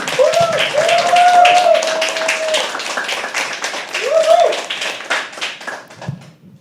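Audience applause at a live poetry open mic at The Habitat, a steady patter of hands clapping close by, with a voice cutting through the clapping twice before it fades out.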